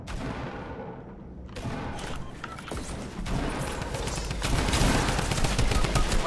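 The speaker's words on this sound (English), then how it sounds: "I'm getting shot." Gunfire in the video game Fortnite, with dense, rapid bursts of shots and thuds that grow louder and more continuous, building into a heavy fusillade.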